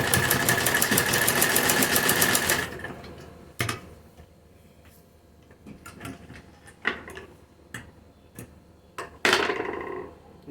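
A sewing machine stitches a round kurti neckline with folded-in piping, running in a steady dense whir for a couple of seconds, then stopping into short bursts of handling and clicks nearby.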